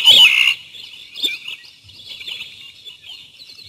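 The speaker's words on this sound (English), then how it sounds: "This is the veery, his natural call." A veery, also called Wilson's thrush, sings its natural call: a bright, high song opens loudly, followed by softer fluttering, downward-spiraling phrases that carry on in the open with no voices.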